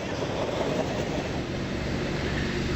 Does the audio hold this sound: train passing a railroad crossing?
yes